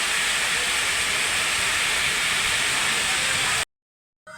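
Rushing water at a farmhouse water park makes a loud, constant roar for several seconds, then cuts off abruptly before resuming briefly.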